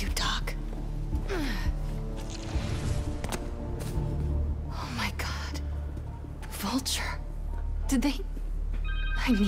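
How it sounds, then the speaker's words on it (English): A cell phone rings in Marvel's Spider-Man 2, several repeated ringtone bursts amid game noise and background voices. "Conors' cell phone."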